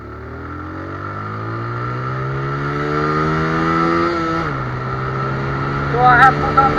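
A TVS Apache RTR motorcycle pulls in third gear, its engine note rising steadily and then dropping briefly before climbing again, close and continuous with a short spike near the end.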